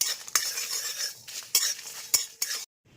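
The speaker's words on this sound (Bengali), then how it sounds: "এটাও শুকনো খোলায় একটু ভেজে নেবো" Spices with dried red chilli and a bay leaf dry-roast in an empty pan, stirred with a utensil. Sharp scrapes and clinks recur every half second or so over a soft crackle, then stop abruptly.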